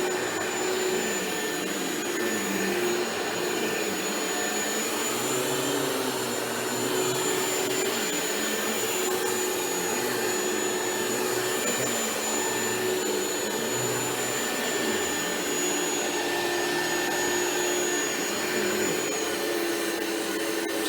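Rainbow E2 Black Type 12 canister vacuum running with its power nozzle attached, a steady loud whine with a high tonal motor pitch that holds unbroken throughout, no voices.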